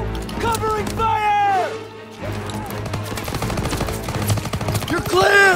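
Machine gun fire in a Call of Duty WW II battle, bursts of gunfire crackling over shouted soldier voices and combat clamor, loud and close throughout.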